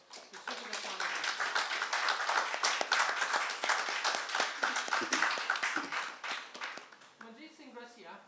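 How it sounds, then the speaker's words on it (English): Audience applause and clapping at a Hindustani classical vocal recital, dense and steady for several seconds before thinning out, with a voice briefly emerging near the end. "could you give us another round of applause to Sukhida Banerjee?"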